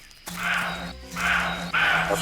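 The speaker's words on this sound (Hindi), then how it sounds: "बार्किंग डियर तभी ऐसी आवाज करता है जब टाइगर आसपास हो।" A barking deer giving an alarm call in the forest, two or three sharp, hoarse barks close by, each rising loudly over a low steady hum.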